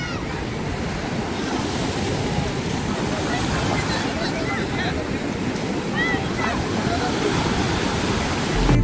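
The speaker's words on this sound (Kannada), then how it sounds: "ಇದು ಬೇ ಆಫ್ ಬೆಂಗಾಲ್ ಓಷನು" Bay of Bengal surf breaks continuously on Puri beach, a dense roar of waves with wind across the microphone, growing a little louder at the end.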